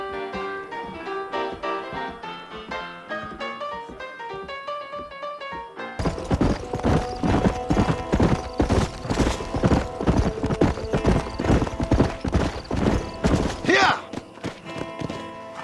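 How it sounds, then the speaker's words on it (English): Horse hooves clip-clop in a quick, steady rhythm under music in the video game Red Dead Redemption, growing louder and busier midway, with a brief whinny near the end. "I got the horses saddled up and ready out front"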